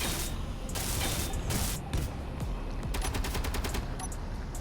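Automated guns fire at alien spiders in the space survival game Space Engineers, giving dense rapid bursts of gunfire with a mechanical rattle that repeat in waves, loud and close throughout.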